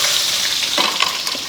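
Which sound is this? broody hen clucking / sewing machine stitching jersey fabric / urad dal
urad dal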